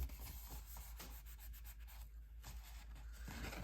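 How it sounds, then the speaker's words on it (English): A hand rubs firmly over a freshly glued paper gift bag to set the seam. It makes a steady, close, dry rubbing sound with no talking. "I will flip it over here and just give it a good rub."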